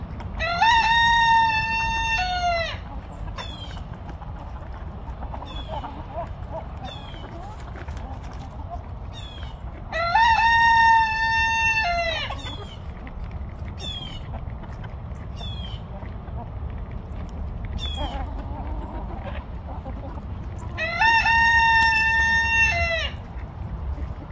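Free-range chickens outdoors, a rooster crowing loudly three times at regular intervals over steady low clucking and yard noise, with occasional voices in the background.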